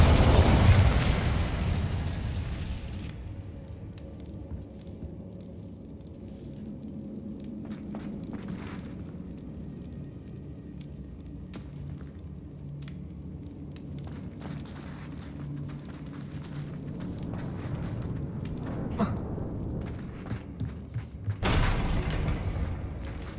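Bombarda spell explosions in the video game Hogwarts Legacy, a loud booming blast at the start, scattered pops and bursts through the middle and another sharp explosion near the end over a low ambient rumble.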